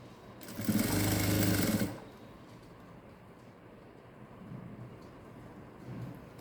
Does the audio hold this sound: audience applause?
no